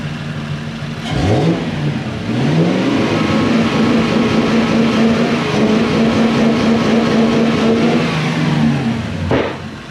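A Toyota Celsior (Lexus LS400) V8 under diagnosis for an air flow meter voltage fault revs up sharply, holds a steady raised idle for several seconds, then drops back, heard close and loud with no talking.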